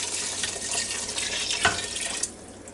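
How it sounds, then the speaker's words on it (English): Thick beef stroganoff mixture pouring steadily into a Ninja Foodi Deluxe pot, a continuous wet splashing and glugging with a brief sharper splat near the end before it trails off. "We're going to pour this right down the Ninja Foodi Deluxe."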